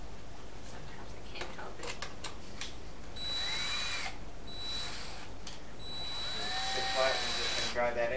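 Cordless power drill driving a screw partway into the plywood wall of a teardrop camper, giving short whirring bursts of rising and falling pitch, close by, between pauses and low talk.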